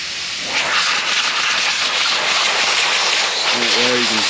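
Compressed air hisses steadily from a leaking charge air cooler (aftercooler) under constant shop air pressure, a loud close broadband rush that continues throughout, with a faint brief tonal squeak near the end.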